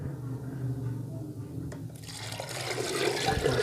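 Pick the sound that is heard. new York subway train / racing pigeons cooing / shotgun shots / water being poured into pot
water being poured into pot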